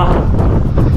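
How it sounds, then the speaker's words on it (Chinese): A dense, unbroken rush of powerful wind blows through the mouth of a cave, loud and close, with a brief murmured voice beneath the roar. "这里风太大了。"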